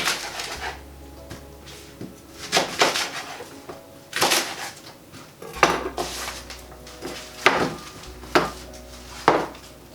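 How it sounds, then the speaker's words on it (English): A knife chops leeks roughly on a cutting board, giving a few irregular sharp knocks and clatters spaced out over a quiet kitchen background. "Just give these a very quick rough chop."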